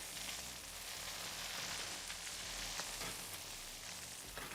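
Beef tenderloin sears in a hot pan while being basted, giving a steady, close, dense sizzle with small crackles and pops throughout and no voices.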